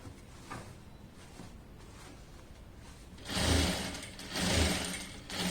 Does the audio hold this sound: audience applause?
no